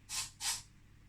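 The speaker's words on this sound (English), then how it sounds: "Let me just give a little bit of a spray here" Two short hissing bursts of insect repellent from an aerosol can outdoors on a forest pathway, close and fairly quiet, followed by near silence.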